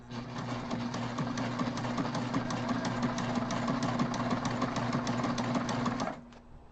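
A sewing machine stitches backpack fabric in a steady, fast, close rhythm with a mechanical hum underneath, then stops abruptly near the end.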